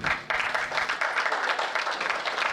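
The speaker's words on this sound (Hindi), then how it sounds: "आप तालियों से साथ दीजिएगा और गीत को सुनिएगा" An audience at a Hindi poetry recital claps steadily, a continuous burst of applause throughout with a faint voice underneath.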